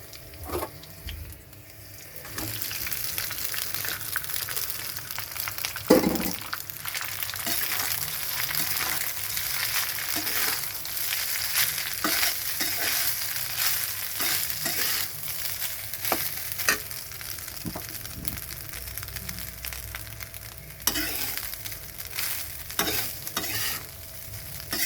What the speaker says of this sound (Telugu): ఇప్పుడు రైస్ వేసుకుంటున్నాను.